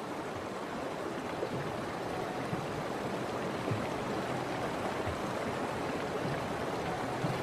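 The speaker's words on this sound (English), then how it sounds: "But the waters are cold and fast." Cold, fast river water rushing steadily while a herd of bison with young calves crosses, a dense continuous roar of flowing current with no voices.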